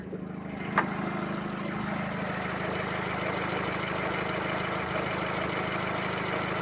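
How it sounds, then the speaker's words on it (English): Car engine idling with a possible bad cam belt tensioner, a steady, close mechanical hum with a faint dry ticking running through it and a small knock near the start. "I think it might be a bad cam belt tensioner"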